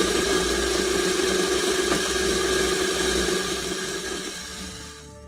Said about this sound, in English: one negative thing about these grinders are they are loud